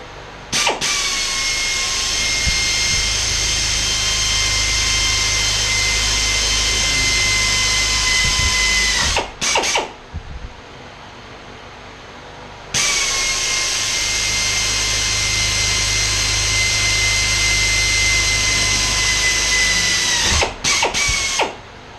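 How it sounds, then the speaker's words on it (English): A power drill pre-drilling holes whines steadily for several seconds, stops briefly, then runs again for another long stretch, loud and close. "we're going to go ahead and pre-drill our holes."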